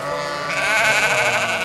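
A sheep bleats loudly and close by, one drawn-out wavering cry rising in the middle, from a large flock of about 800 sheep moved daily between small alpine pastures, with no voices.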